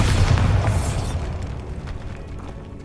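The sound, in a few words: Bombarda explosion spell, from video game Hogwarts Legacy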